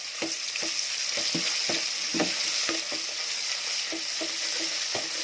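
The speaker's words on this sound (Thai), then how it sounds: "เนี่ยเจ้าตั้งน้ำมันให้เดือดเนาะเขาก็จะใส่ เครื่องแกง ของเขาลงไปแล้ว" Curry paste for a beef curry fries in hot oil, a dense, loud sizzle up close with regular stirring strokes that knock the pan every half second or so.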